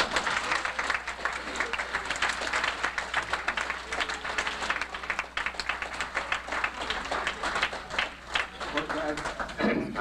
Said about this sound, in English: give your chaperones and your band director a round of applause